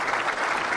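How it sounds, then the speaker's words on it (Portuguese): An audience at a data management and jurimetrics talk applauds for Marcelo, a steady dense wash of clapping held at an even level throughout, with no voices. "Uma salva de palmas aqui para o Marcelo"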